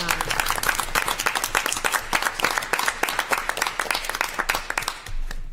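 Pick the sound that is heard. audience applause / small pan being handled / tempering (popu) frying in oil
audience applause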